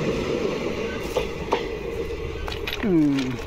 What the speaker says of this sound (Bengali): ট্রেন গেছে গিয়া